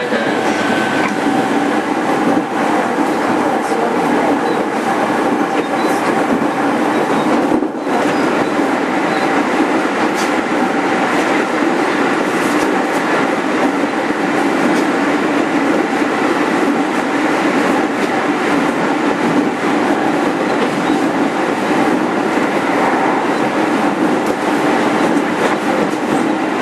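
A JR 205 series 5000 commuter train runs between Musashi-Urawa and Shin-Matsudo, heard from inside as a steady loud rumble and rolling wheel noise with faint rhythmic clacking throughout.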